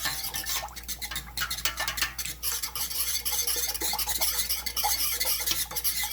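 Pectin being whisked into peach peel jelly in a pot over high heat, a fast, scraping, rhythmic stir of metal against the pot, steady and close throughout with no talking.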